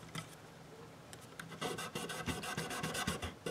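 Fine 1000 grit sandpaper rubs across the frets of a Washburn guitar fitted with a fret guard, making soft raspy strokes that start faint and grow into a quick run of repeated scrubbing passes, close up with no talking.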